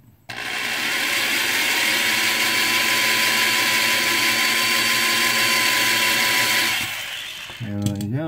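A power drill whirs loudly and continuously for several seconds, then winds down and stops, followed by a brief voice.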